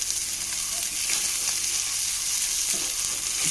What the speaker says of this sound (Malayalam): ഇത് നമുക്ക് തിരിച്ചും മറിച്ചൊക്കെ ഫ്രൈ ചെയ്തെടുക്കാം.